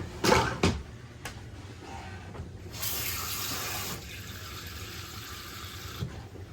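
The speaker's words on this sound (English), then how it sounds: "Add quarter cup of water." Kitchen tap water running into a quarter-cup measure, a few knocks and clatters at the start, then a steady hiss of flowing water that stops near the end, fairly quiet and close.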